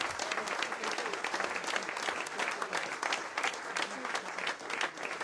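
Sustained applause from an event crowd at a Roland Garros 2014 evening gathering honoring volunteers and photographers, dense steady clapping filling the whole stretch at an even level.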